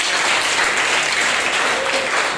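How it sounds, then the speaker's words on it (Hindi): Members of a Sunday church congregation clap for one another, a steady, dense round of applause filling the room without pause, with a faint voice briefly audible beneath it. "ओके, और एक आपस में ताली बजा सकते सबके लिए।"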